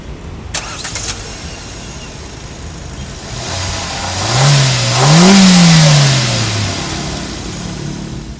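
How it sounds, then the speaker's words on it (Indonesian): A Hyundai Grand i10X engine cranks and starts with a brief revving surge, then settles into a steady idle hum, close and clear. "Yuk kita startup dulu, kuncinya colok di sini. Dan kita dengar suara mesinnya."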